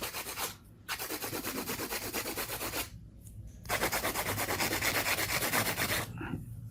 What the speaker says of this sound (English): Support it while you're doing hand filing.